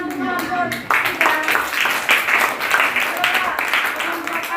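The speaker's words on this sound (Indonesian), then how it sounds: "Tepuk tangan untuk kelompok tiga" A group of students in a classroom claps for group three, a burst of brisk applause that starts suddenly, stays dense and even, and carries on under a talking voice.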